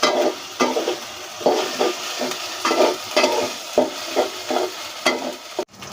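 Ginger and garlic fry in hot oil in a home kitchen, a steady sizzle broken by rhythmic stirring strokes about every second, loud and close, ending in a sharp scrape.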